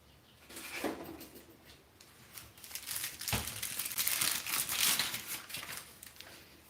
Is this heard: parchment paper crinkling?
yes